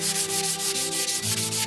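Furniture wood being sanded by hand, a steady rasping rub repeated in quick strokes, close and fairly loud, with no voices.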